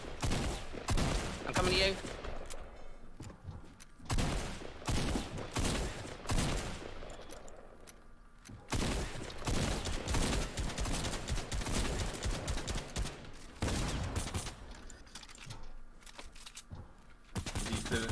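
Repeated bursts of gunfire in the Fortnite video game, sharp shots and rapid volleys recurring throughout, with a player briefly speaking between them.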